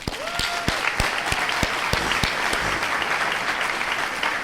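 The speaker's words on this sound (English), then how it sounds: "Give yourselves a round of applause" An audience at a celebration gathering claps together in a steady, full round of applause, with a few sharp individual claps standing out near the start.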